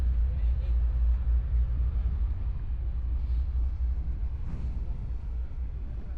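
Deep, steady low rumble of a large passenger ship's engine exhaust, loud and continuous throughout, with faint voices in the background.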